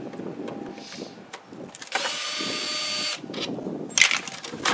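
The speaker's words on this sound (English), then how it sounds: "So you pull those out with your handy dandy drill." A power drill backs screws out of a lid on a French drain pipe outdoors, with a sustained loud whir of about a second and short bursts around it over a rustling background.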